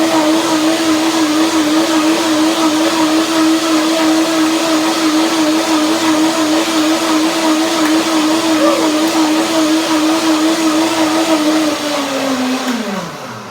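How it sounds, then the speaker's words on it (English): A blender whirs steadily at high speed while mixing a vinegar tahini dressing with added water and sesame seeds, a loud continuous motor drone with a faint wobble that winds down at the end. "I blend again with a little bit more water"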